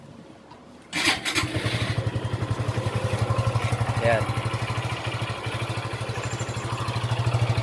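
A Suzuki Gixxer 155 motorcycle, a 2021 model, starts up close by and settles into a steady, rapid thumping idle with a throaty exhaust pulse, while someone speaks briefly over it.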